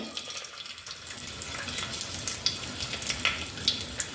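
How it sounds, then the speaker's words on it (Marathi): Grated coconut fries in hot oil in a pan on a gas stove, a quiet continuous crackly sizzle with scattered tiny pops and clicks and no talking. "थोडंसं खोबरं फ्राय करून घ्यायचं"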